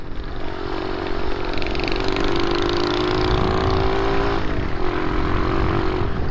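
A small motorcycle engine runs steadily nearby, a loud buzzing drone with a slight pitch dip near the end and no talking.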